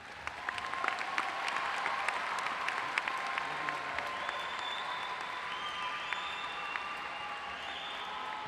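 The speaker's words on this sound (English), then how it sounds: "A big round of applause." Audience at the Averill Park High School 2023 graduation ceremony applauding steadily, a dense wash of clapping heard from a distance, with a few faint whoops.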